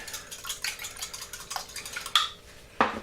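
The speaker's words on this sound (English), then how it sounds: "Stir them up, break the yolks." Eggs being stirred up in a bowl to break the yolks make a rapid, busy scraping and clinking, followed by two sharper knocks of the utensil near the end.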